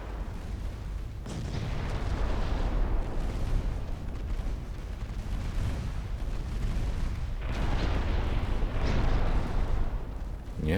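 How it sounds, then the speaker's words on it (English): Battleship main guns firing in the naval game Ultimate Admiral Dreadnoughts, heavy booms rolling into one another over a continuous low rumble, with sharper blasts near the start and again later, no talk. "Main guns may now open fire."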